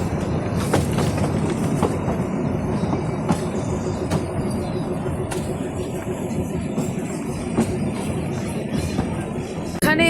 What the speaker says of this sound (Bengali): আস্তে আস্তে আমাদের টয় ট্রেন যাচ্ছে